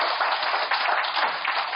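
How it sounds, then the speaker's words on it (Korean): Steady applause from an audience at a book launch event for a publication on eighty years of Incheon books, honoring the author-publisher; dense, even clapping fills the whole moment without talk. "우리 대표님께 이 책을 출간하신 고생하셨던 그 의미로 박수 한번 보내드리도록"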